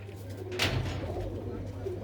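Pigeons coo softly in a loft holding a good-breed female pigeon, a low steady murmur with a brief brighter rustle near the middle and some voices present.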